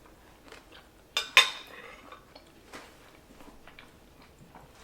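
Cutlery clinks against a plate while taking a bite of stuffed mushrooms with spinach, potatoes and onions, a couple of sharp close scrapes followed by faint scattered taps and quiet chewing.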